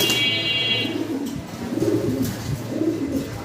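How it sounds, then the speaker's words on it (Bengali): Fancy pigeons in a loft coo in soft, low, repeated throaty bursts at moderate distance over a steady background hum. "ভাই চঞ্চল কবুতর ধরে রাখা যায় না"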